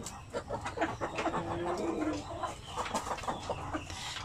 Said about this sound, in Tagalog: mga sampin, mga pure sampin, native chicken